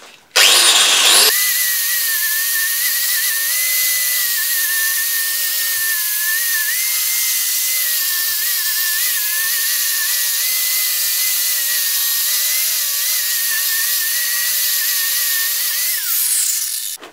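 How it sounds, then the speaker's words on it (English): A wire wheel spun by a power drill scours a metal surface, giving a loud, steady high-pitched grinding whine that holds for about fifteen seconds, with a short spin-up at the start and a wind-down at the end. "what a wire wheel basically does is, you know, it takes the surface down, it's very even at taking surfaces off, so it cleans it up a lot."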